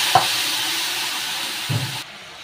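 Whole spices and bay leaf frying in hot oil in a home kitchen make a steady broad sizzle, with a soft clatter near the start and a thud as more masala drops in, after which the frying dies down quieter.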